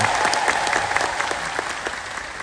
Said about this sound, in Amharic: ካጨበጨባችሁ በደንብ አጨብጭቡ ወይ ተው